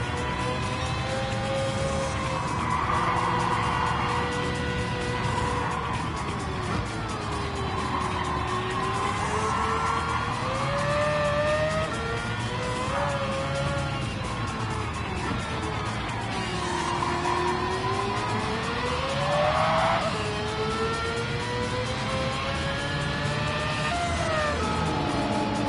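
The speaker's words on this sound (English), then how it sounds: "They've engine swapped this car again." Engine-swapped Nissan Z-tune race car, fitted with the 787B engine, driving in Gran Turismo 7, a continuous loud engine whine whose pitch sweeps up and down through gear changes over a steady drone.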